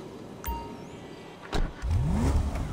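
A car in GTA 5 Online revs its engine with a rising pitch sweep and pulls away, loud and close, after a few brief clicks and thumps.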